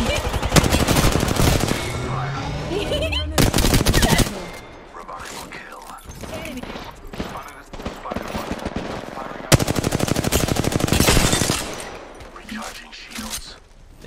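Heavy automatic gunfire in Apex Legends, loud sustained bursts with brief pauses and scattered single shots between, with a voice talking over parts of it.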